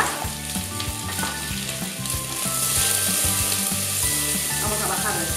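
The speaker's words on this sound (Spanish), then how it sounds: "Tenemos ya el aceite. Y ponemos la cebolla a dorar." Onion frying in very hot oil in a pan gives a loud, continuous crackling sizzle, with stirring clatter throughout.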